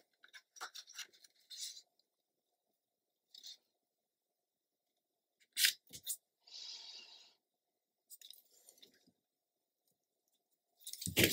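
Scissors snip through patterned scrapbook paper for a craft page in short, faint crisp cuts, scattered in small clusters with quiet gaps between them.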